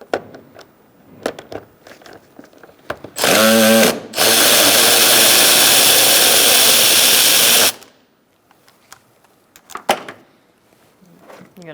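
A power drill runs a 10mm socket on bolts near the airbox of a 2002-2006 Toyota Camry, one short loud burst followed by a longer sustained whir of about four seconds, with a few clicks and knocks around it.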